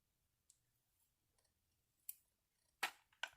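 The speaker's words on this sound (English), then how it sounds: "I'm getting caught on my scissors." Metal scissors click several times, quiet and intermittent, ending in a couple of sharper snips, set in a quiet room while beads are strung for a right-angle weave bracelet.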